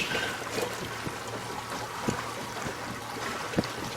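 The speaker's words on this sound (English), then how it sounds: "Going through a no wake zone at 8 knots." A SeaFox 226 Pro Series center console from 2013, engine trimmed up, idles through a no wake zone at about 8 knots, giving a steady low hum and water wash with soft repeated splashes against the hull, close and alone.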